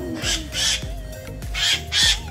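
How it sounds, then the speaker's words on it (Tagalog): A Philippine cockatoo in a Negros forest park, squawking in repeated harsh calls, about four loud bursts over a couple of seconds with brief gaps between them. "The Philippine cockatoo, it was once found throughout the Philippines"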